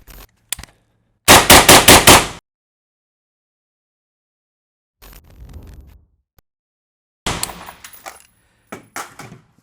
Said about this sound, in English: I'm going to start with 5 rounds of M193.